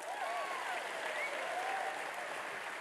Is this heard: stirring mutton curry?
no